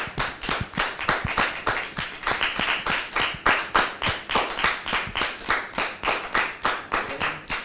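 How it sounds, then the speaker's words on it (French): A studio audience on a French-language talk show claps steadily to welcome a guest, Brother Jérôme, with sharp, closely spaced hand claps continuing in a fairly uniform rhythm, fairly loud and close, with no voices over it. "Merci de le recevoir sous vos applaudissements"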